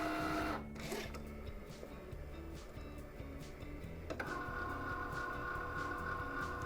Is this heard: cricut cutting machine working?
yes